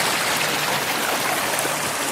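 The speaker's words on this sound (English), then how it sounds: "Here's a little tributary we're crossing. It's beautiful. Little waterfalls on it." A small forest tributary stream with little waterfalls gives a steady broadband rush and splash of water in old-growth woods, close and continuous with no talk.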